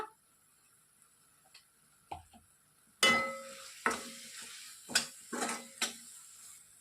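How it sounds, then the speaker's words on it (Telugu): Masala with coriander powder and coconut powder fries in a pan for Andhra-style chicken roast: near silence, then a handful of sharp spatula scrapes and stirs with brief sizzles, close by, with no talking. "చూడండి మసాలా ఎంత చక్కగా ఫ్రై అయిపోయిందో"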